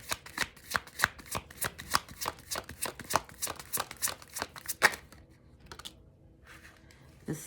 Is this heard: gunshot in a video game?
no